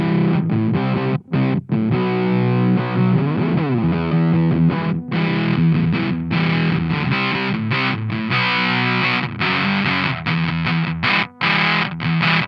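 An electric guitar runs through a Warm Audio Foxy Tone Box fuzz pedal set to a mid fuzz level, giving thick, saturated chords and riffs that play loud and steady with short breaks between phrases.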